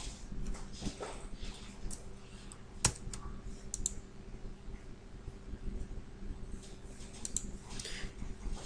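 Computer keyboard keys pressed for a Ctrl+N shortcut, with light scattered clicks and taps at close range under a faint steady background hum.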